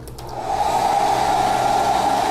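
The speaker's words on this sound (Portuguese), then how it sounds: "secar com secador, sem mover o estêncil" Hair dryer drying fresh paint on a stencil, a steady close whirring hum with a prominent midrange whine that holds level throughout, no voices.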